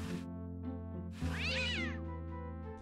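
A single drawn-out cat meow from the video game Day of the Tentacle rises and falls over steady background music, clear and close.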